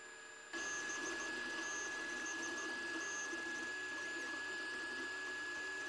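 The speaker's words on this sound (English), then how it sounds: "As soon as the extruder reaches 200 degrees Celsius, the printer starts the job." An Anycubic i3 Mega 3D printer starts its job and prints layer by layer, its motors setting up a steady mechanical whir with a high constant whine that holds evenly after a sudden start.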